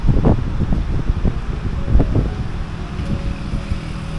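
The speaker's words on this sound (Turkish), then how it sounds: "rüzgar esiyor" Gusting wind buffets the microphone in low rumbling surges, strongest in short bursts near the start and middle, with no voices.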